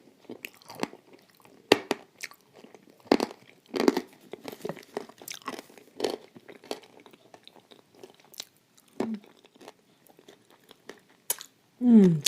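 Close chewing and crunching of Turkestan clay in blue Uzbek clay paste, irregular soft crunches and wet bites throughout, with a brief murmur of voice near the end.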